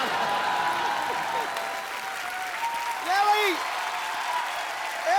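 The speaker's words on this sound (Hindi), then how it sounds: "तुम तालियां क्यों बजा रहे हो?" Studio audience applauding on a comedy talk show, a moderate patter of clapping under host and guest voices that talk and laugh over it throughout.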